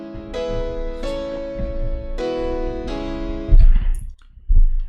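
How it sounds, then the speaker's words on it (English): A tonal musical sample in FL Studio with sustained harmonic chords, pitched up four semitones without changing tempo, repeating in short phrases before ending in a few thumping, noisy hits. "if I pitch it up 400 cents, it sounds like this"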